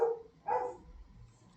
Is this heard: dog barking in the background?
yes